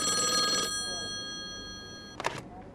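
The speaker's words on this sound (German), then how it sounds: "Da klingelt endlich ein Telefon." A telephone rings in the video game Call of the Elder Gods, one steady electronic ring that stops sharply, followed by faint background noise and a short click or clack near the end.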